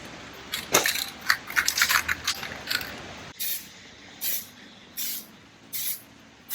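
Aerosol paint sprayed onto the alloy wheels of an R56 MINI Cooper S, starting with a flurry of short hissing bursts, then settling into four evenly spaced, longer spray blasts, close and fairly loud.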